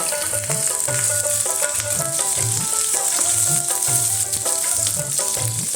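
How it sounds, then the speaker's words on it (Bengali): Garlic and chili dropped into hot mustard oil, a loud continuous sizzle and crackle with rhythmic low thumps and scraping throughout, close up and without talk. "তেলটা গরম হয়ে গেছে, তেলের মধ্যে দিয়ে দেবো প্রথমে কিন্তু রসুনটা, তারপরে দিচ্ছি লঙ্কা"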